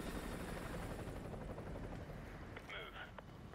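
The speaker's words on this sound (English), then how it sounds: "Enemy helo patrolling the perimeter." In the Call of Duty Modern Warfare 2 campaign, an enemy helicopter patrols with a constant low rotor rumble, joined near the end by brief electronic beeps, with voices talking over it.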